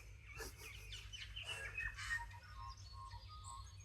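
Birds calling outdoors, a rapid series of chirps and clucking calls rising and falling over a low steady hum, fairly faint and with no talk.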